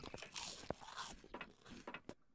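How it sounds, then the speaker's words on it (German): An owl in the survival game Empyrion smacks its beak while eating, a quiet run of wet clicks and crunchy chewing bursts, close and isolated. "Oh, die Eule schmatzt."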